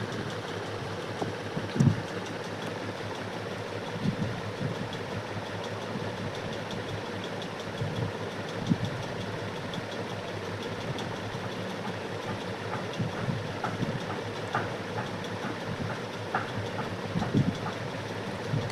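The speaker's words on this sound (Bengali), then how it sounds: "তো একটা গ্যাস জ্বালিয়ে নেব" A gas stove burner burns under a bowl holding a cup of water, giving a steady, even roar that fills the whole stretch with faint irregular ticks and knocks.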